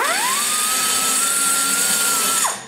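A high-speed rotary burr whines up to a steady pitch while shaping a valve guide in a ProComp 190cc cylinder head. It holds a constant, close, loud tone for about two seconds, then spins down as it stops.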